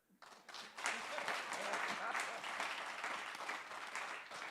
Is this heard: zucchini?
no